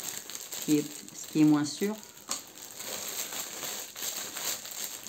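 A size L plastic vacuum storage bag crinkles and rustles in short bursts as it is unpacked, close by, while someone speaks French over it.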